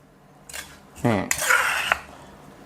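A metal spoon scoops pounded herbs onto raw chicken wings, giving a few quick clinks and scrapes against a dish, close and clear with no talking.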